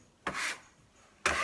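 A dough scraper cuts two flours together for pici pasta, giving two short, dry scraping strokes against the work surface with a quiet pause between them, close and without talk.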